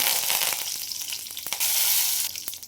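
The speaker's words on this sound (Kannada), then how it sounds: "ಇವಾಗ ಕರಿಬೇವಿನ ಸೊಪ್ಪು ಹಾಕ್ತೀನಿ." Curry leaves hit hot oil already holding cumin and mustard seeds, giving a loud, continuous close-up sizzle with crackling pops, and no voices.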